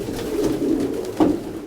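Pigeons or doves from a flock of around a hundred birds coo softly and continuously at close range, with a slightly louder coo rising near the end.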